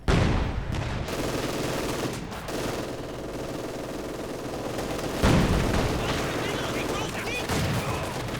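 MG42 machine guns and other gunfire crackle through a Company of Heroes 2 battle, with bursts, booms and a dense combat din that runs continuously and swells at a few points.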